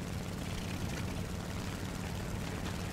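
Steady drone of an aircraft engine in War Thunder as an enemy plane attempts to land, a continuous even propeller hum with no talk.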